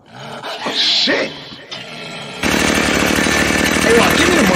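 Chainsaw sound effect roaring in loudly and continuously at mid-clip after a stretch of scattered barks and shouts, a harsh buzzing engine drone that holds steady to the end.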